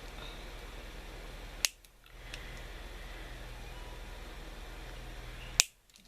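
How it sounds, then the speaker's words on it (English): Wire cutters snip through the back of a Christmas decoration made from toilet paper rolls, giving two sharp, isolated clicks a few seconds apart over a quiet room hum. "I just use my wire cutters and cut the back off."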